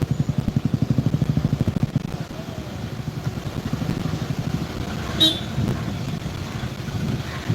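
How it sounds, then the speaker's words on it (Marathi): Road traffic jammed at Raibandar near the ferry point to Chorao Island, with a steady rumble of idling engines, a rapid rhythmic engine throb at the start and one brief horn toot midway. "एक सायड रस्तो खणलेल्या कारणान हांगासर सगळे ट्रॅफिक जॅम जाता."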